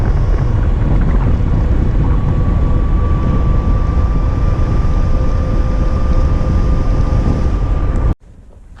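Strong headwind roars across the microphone while riding a Sur Ron electric bike with a stock BAC 4000 battery, a loud continuous rumbling buffet that cuts off abruptly near the end.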